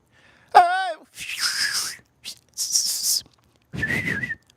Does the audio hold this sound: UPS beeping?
no